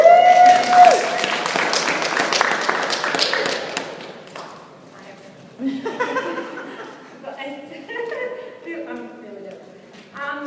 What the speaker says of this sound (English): So if we could give Laura a big round of applause.